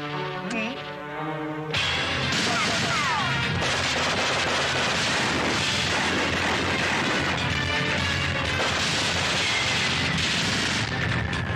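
Firecrackers going off in a dense, rapid barrage of loud cracks and bangs after a short lead-in, continuing nonstop to the end of the clip.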